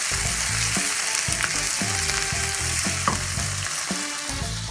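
Sliced onions fry in a little oil and are stirred continuously toward caramelization, giving a loud, steady sizzle broken by repeated scraping and stirring strokes against the pan, with no voices.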